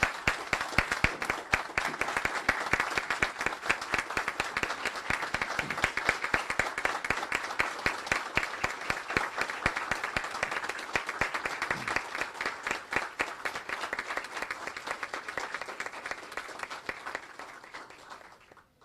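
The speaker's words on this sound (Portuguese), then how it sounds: "homenagear as pessoas que construíram as histórias e as memórias da subseção judiciária de Jacarezinho nestes 20 anos com uma calorosa" Warm applause from a ceremony audience honoring twenty years of a federal judicial subsection in Jacarezinho, with dense steady clapping that holds throughout and fades slightly at the end.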